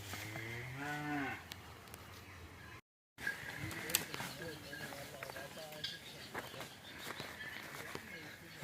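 A calf moos once, a loud, drawn-out bellow near the start on a farm among cows, followed by a brief gap and then someone talking with birds and faint outdoor sounds in the background.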